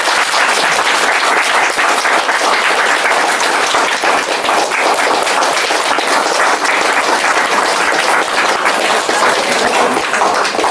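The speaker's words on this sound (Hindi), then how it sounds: "ताली बजा देंगे" Wedding guests in Sanna, Jashpur, Chhattisgarh break into loud, sustained applause, a thick, even roar of many hands clapping for over ten seconds without pause or speech.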